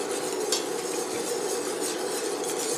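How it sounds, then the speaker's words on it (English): Continuous scraping and swirling of a spoon stirring milk in a pot for eggnog, steady and close, with faint clinks and no talking. "And you just want to stir all the time."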